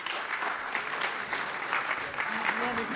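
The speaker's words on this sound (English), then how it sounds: "give them a big round of applause" A room applauds a college football coaching staff, continuous even clapping filling the whole moment at moderate distance with a few faint cheers mixed in.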